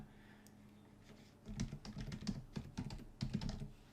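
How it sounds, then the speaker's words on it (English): Typing on a computer keyboard into a web browser's address bar, a quick run of close, crisp key clicks in uneven bursts after a brief quiet start, with no talking. "I'll just type that into the address bar"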